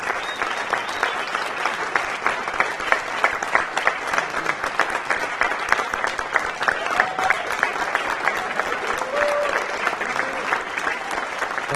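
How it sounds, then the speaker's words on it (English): Sustained applause from a large audience at a hall of fame awards ceremony, dense steady clapping throughout, fairly close and loud, with faint voices mixed in. "And I'd like you to give both of those two a real round of applause."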